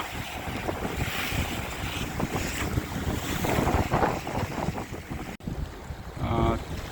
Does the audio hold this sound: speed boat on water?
yes